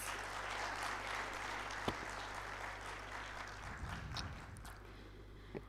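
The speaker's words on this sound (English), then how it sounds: "Can I have a big round of applause for our esteemed panelists?" An audience at a university law conclave applauds its panelists with sustained, dense clapping that fills the hall at a steady level, a few sharper individual claps standing out near the end over a constant low electrical hum.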